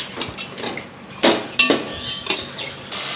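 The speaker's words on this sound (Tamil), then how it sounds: "இப்போ இதை நல்லா கிண்டி விடலாங்க." Country chicken with ginger garlic paste is stirred in a pot, giving a few sharp, irregular clanks and scrapes of a utensil against metal, close and alone.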